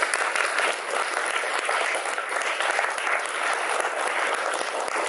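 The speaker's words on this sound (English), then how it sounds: "Let's give ourselves a clap." An audience at a community gathering gives loud, continuous applause, dense overlapping claps filling the whole stretch without a break.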